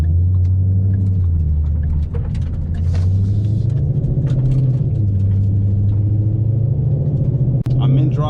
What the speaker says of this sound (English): I'm in drive right now, and I'm kind of just cruising like a normal individual right now.